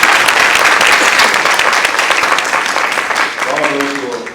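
Dense, steady audience applause fills a mayor's awards ceremony hall, loud and sustained throughout before easing slightly toward the end, with a voice faintly emerging near the close.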